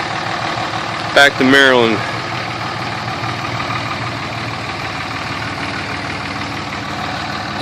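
A 2003 Dodge Cummins diesel truck with a straight-pipe exhaust idles with a steady, deep rumble throughout, while someone speaks briefly over it near the start.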